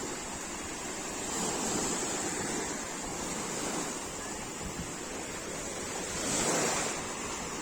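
Sea waves wash onto a beach in Italy in the evening, a continuous broad surf rush that swells gently twice, mixed with wind noise against the microphone and no voices.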